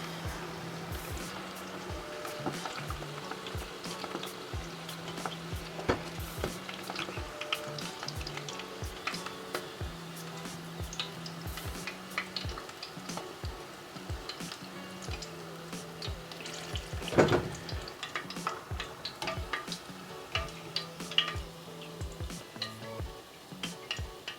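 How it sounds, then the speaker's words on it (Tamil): Spicy prawn vadas deep frying in hot oil over low heat, a steady dense sizzle and crackle running throughout with occasional louder pops and stirring clatter, no talking. "நல்லா நெருப்பை குறைச்சி விட்டு கிட்டத்தட்ட 5 நிமிஷம் பொரிய விட்டுருக்குறேன்"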